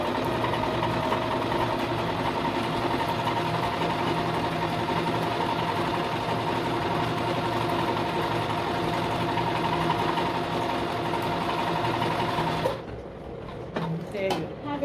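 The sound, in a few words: Singer 1507 sewing machine stitching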